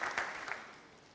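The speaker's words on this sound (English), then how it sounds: "Please, a round of applause for Olukoya Imoleayo" Brief, fairly faint audience applause at a conference event, a few louder claps early that fade out quickly.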